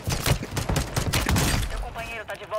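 Bursts of automatic gunfire in Call of Duty: Warzone, a rapid rattling fusillade that fills the first half and then thins to scattered shots, loud and close with game sounds mixed in.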